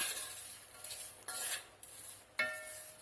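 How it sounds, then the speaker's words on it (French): Chicken and vegetables stirred in a pan with turmeric and cumin, a spoon scraping and rubbing against the metal in a few soft, close strokes with a sharper clatter near the end. "Je remue."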